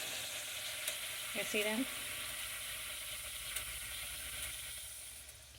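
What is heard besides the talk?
tortilla strips frying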